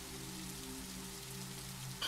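Steady rain patters and hisses in The Riftbreaker, a dense even wash of drops with a low droning hum underneath and no other sounds.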